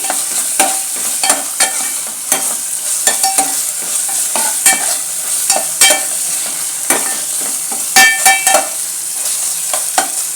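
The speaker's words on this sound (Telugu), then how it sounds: "ఇప్పుడు టమాటాలు వేసాను, పచ్చిమిర్చి కూడా వేసానండి. ఇంకా బాగా ఇది ఫ్రై అయ్యే వరకు బాగా చేసుకోవాలి." Tomatoes and green chillies fry in a pan for a kichadi, with a steady broad sizzle broken by frequent sharp scraping strokes of a spoon stirring, close and loud, with no voices.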